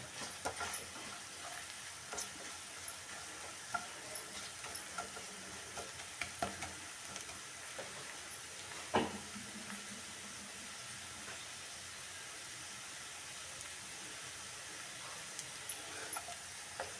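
Rice with egg and garlic frying in a pan, a steady soft sizzle with scattered clicks and scrapes of stirring, one sharper clack near the middle, no voices.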